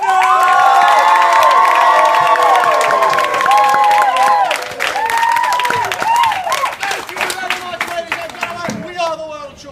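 A live audience at an outdoor street theatre show cheers, whoops and shouts loudly and continuously, with children's high voices mixed in and scattered clapping, the roar easing slightly toward the end.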